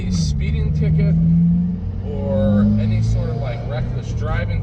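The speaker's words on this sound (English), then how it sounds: "I'm on these back roads right now, and like, yeah, I'll give it some gas, I'll do some downshifts" A car drives along back roads, its engine droning and swelling as it accelerates, easing off and building again, while someone talks over the cabin noise.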